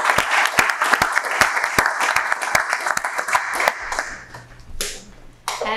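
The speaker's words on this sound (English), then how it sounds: "So just like clap for you guys," Applause from a retreat audience fills the room, a dense wash of clapping with sharp individual claps standing out, tapering off toward the end with a few scattered claps.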